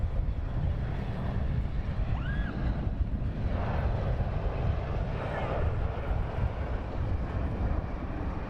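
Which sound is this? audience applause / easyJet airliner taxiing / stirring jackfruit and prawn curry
easyJet airliner taxiing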